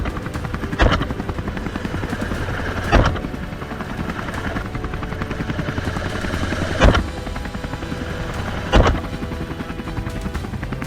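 A helicopter's steady rotor thump and engine roar fill the scene, loud and close, during a wild boar hunt from the air, with a few sharp bangs cutting through at irregular intervals.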